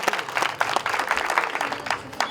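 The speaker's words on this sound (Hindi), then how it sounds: "तालियों से इनका स्वागत किया जाए।" An audience gives scattered, moderate applause to welcome a guest onto the stage at a folk theatre workshop award event, with irregular claps over a soft crowd murmur.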